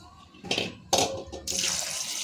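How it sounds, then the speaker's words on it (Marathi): Water is poured into a pressure cooker holding soaked kidney beans, beginning with short splashing bursts and then settling into a steady pour that runs to the end. "शिजण्यासाठी इथे पाणी टाकलेलं आहे।"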